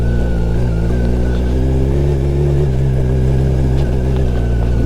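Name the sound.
motorcycle riding off-road over rocky potholed mountain road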